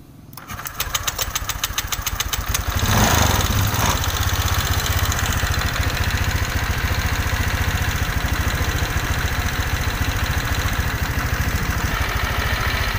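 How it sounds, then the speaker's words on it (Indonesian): A Honda Vario 125 scooter engine cranks and catches, then settles into a steady, close idle as it warms up on a cool morning. "Kita hidupkan dulu mesinnya."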